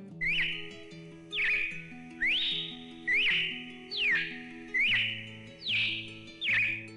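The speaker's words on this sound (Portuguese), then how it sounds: "siga a direção indicada pelo canto de um pássaro, que irá sempre cantar à sua frente" Repeating bird whistles, about eight rising then falling calls in an even rhythm over sustained low musical tones, clear and fairly close.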